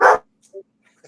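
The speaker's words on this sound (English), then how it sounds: "damn dog." A dog gives one short, sharp bark at close range, followed by faint small sounds in otherwise quiet surroundings.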